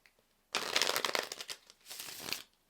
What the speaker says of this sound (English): This deck shuffles so beautifully.